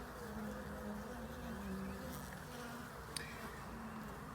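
Faint, steady buzzing of a small overwintered honey bee colony in the hive, about five frames of bees, a low continuous drone with one brief click partway through.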